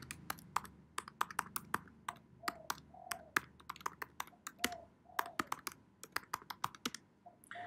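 Fingers type on a computer keyboard in a quiet room, a sparse, irregular run of crisp key clicks with brief pauses, close and fairly soft, with no voices.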